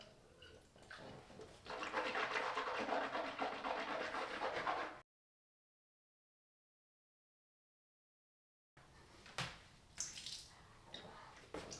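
Water swished around in the mouth during a teeth-cleaning routine: a steady, close, sloshing wash for several seconds, then silence, followed by a few faint wet bits and rustles.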